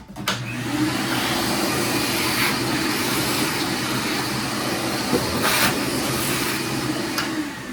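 A vacuum cleaner runs continuously, sucking up bowling ball drilling debris in a home workshop: a loud, steady whooshing roar with occasional brief rattles as particles are pulled in.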